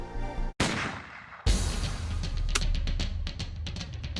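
A loud burst of video game gunfire, then a sharp blast followed by a rapid series of shots crackling in quick succession, with no talking.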